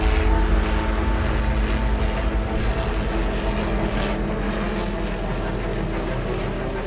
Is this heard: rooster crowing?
no